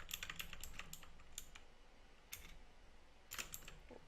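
Fingers type on a computer keyboard in scattered quick bursts of clicking keystrokes with pauses between, fairly quiet and close, with no talking.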